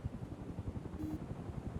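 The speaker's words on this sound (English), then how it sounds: "Wait, is that... I hear a helicopter." A helicopter flies overhead in the video game The Magnificent Trufflepigs, heard as a steady, low, rapid rotor thump at moderate volume, alone with no talking.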